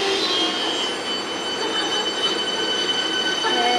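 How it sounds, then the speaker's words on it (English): A train departing Richmond station rolls steadily past at close range, a continuous rumble with high metallic wheel squeal running throughout. "And the train is now departing for Sandra Cam."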